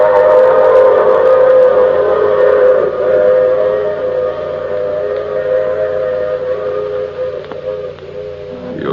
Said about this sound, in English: I take this same train every week at the same time.